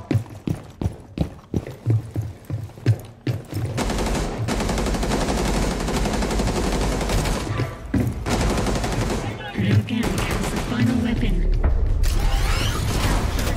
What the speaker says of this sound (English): Back to the bloody shotgun.